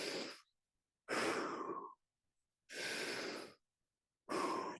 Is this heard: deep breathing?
yes